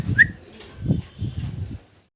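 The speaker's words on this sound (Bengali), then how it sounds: "খুব চমৎকার এক জোড়া কবুতর দেখতে পারতেছি। এখানে দেখেন কি সুন্দর ডাকাডাকিতে ব্যস্ত" A pair of Budapest pigeons coo in three or four low, throaty bursts close by, with a brief higher chirp at the start and no talking.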